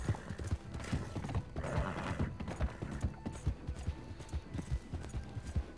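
Horse hooves clatter in a quick galloping rhythm in the video game Red Dead Redemption 2, fairly close, with some mechanical clinks and distant noise mixed in.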